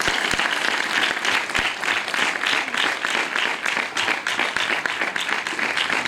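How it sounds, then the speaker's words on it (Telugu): A church meeting audience bursts into sustained applause, a dense, steady wash of many hands clapping that carries evenly from start to finish with no talk on top. "ఒకసారి గట్టిగా చప్పట్లు కొడదాం"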